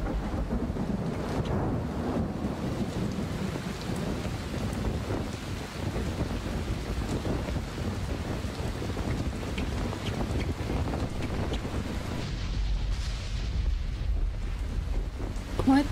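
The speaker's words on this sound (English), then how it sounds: "Quite the storm." Storm wind gusts steadily in Dying Light, a broad rushing roar with low rumbling like distant thunder underneath, continuous throughout and thinning slightly near the end.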